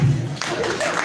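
A big round of applause from a crowd at a recognition event, loud and dense throughout, with a low voice briefly sounding at the start.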